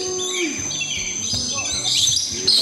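Birds at a bird park chirp and tweet in busy, overlapping high calls nearby, continuous over a few seconds alongside faint background activity.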